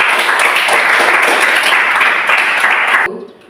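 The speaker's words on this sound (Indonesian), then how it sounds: "tepuk tangan dulu untuk kelompok 1" Classroom students clap together for a presenting group, quick dense applause for about three seconds that stops abruptly, leaving a brief quiet tail.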